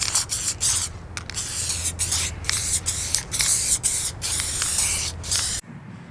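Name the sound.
spray paint can spraying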